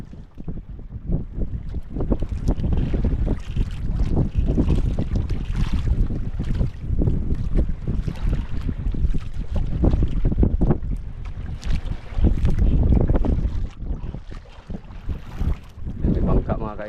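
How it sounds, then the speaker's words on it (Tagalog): A small fishing boat runs out on open water. Its engine drones steadily under heavy gusting wind buffeting the microphone, and splashing water rises and falls throughout. "May bangka mga ka-idol."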